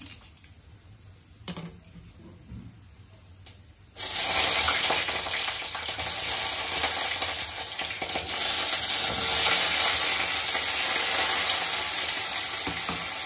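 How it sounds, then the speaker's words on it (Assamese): Small mola fish frying in hot oil, a loud, steady sizzle that starts abruptly and continues without pause, following a few faint clicks at the start. "এই মোৱা মাছকেইটা এতিয়া ভাজি পাওঁ"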